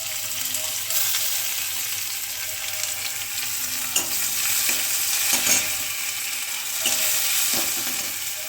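Chopped onion and tomato sizzle and fry steadily in an oily pan, a dense continuous hiss with a few soft clinks and stirring scrapes, close and fairly loud throughout.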